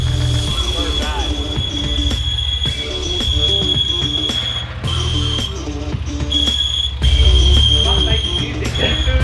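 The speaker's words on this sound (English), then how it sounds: "Or the bearing could just be screeching its head off" The clutch release bearing in a Nissan GQ Patrol screeches with a piercing high whine. It cuts in and out over a rumbling drivetrain and workshop clatter.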